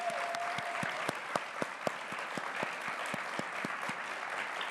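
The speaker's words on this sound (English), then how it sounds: "Can you all please stand and everyone give them a round of applause?" An audience at an environmental awards ceremony gives a round of standing applause, a moderate steady patter of many hands clapping with sharper individual claps standing out, continuing throughout.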